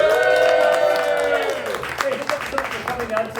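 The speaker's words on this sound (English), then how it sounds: "Give yourselves a round of applause" Audience at a storytelling show applauding and cheering, a burst of clapping over held voices early, then scattered claps and whoops as a host speaks over them.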